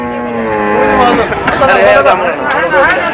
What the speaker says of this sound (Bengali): অনেক বড় বড় গরু রয়েছে।